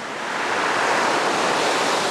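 Sea waves on the coast roar in a steady, loud wash of surf with wind noise, heard close and continuous with no voices.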